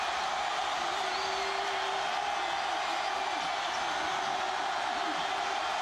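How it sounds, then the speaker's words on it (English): Loud, steady roar of a football stadium crowd during an East Carolina versus Marshall college game in 2008, a dense wash of noise meant to rattle the opposing offense, with a commentator's voice running over it. "With the crowd doing everything it can to distract him"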